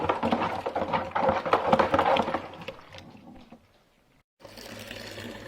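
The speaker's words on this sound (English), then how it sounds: "I'm now just dropping in the tap water treated with Camden tablet, so basically my brewing water, dropping it in just from my spare barrel" Treated tap water is poured from a spare barrel into a beer-brewing fermenter, a loud, gushing splash that thins to a trickle and stops before a quieter background hum resumes.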